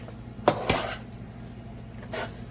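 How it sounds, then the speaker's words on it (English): Gooey mac and cheese is stirred in a dish, giving a few soft, close wet squelches and a light utensil knock against a quiet background. "When I eat my mac and cheese, I want to hear that gooiness."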